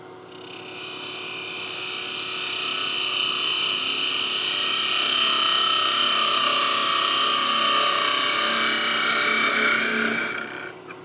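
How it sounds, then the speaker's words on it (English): A wood lathe spins a pepper mill knob while a tool makes a slicing cut, giving a steady whining, humming drone that swells in over two seconds, holds loudly, then cuts off near the end. "So let's go ahead and use a slicing cut to clean this up and add our small dimple."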